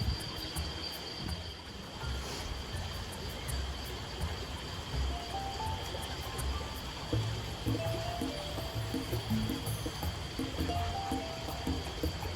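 A creek flows beneath a small bridge, its water rushing in a steady, soft, continuous wash heard alone, with no voices.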